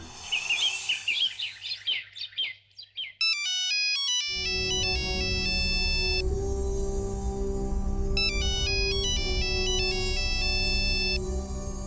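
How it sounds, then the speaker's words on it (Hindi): A loud melodic phone ringtone plays on and on, bright synthesized notes repeating over a steady humming background, after a brief burst of chirpy tones. "कब से फोन बज रहा है, सुनाई नहीं देता?"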